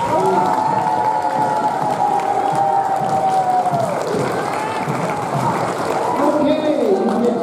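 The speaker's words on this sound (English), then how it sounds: "let's have one more round of applause for all the board of directors and all the volunteers" Crowd at an opening ceremony cheering and applauding the board of directors and volunteers, a steady, dense wash of clapping and voices that carries on loudly throughout.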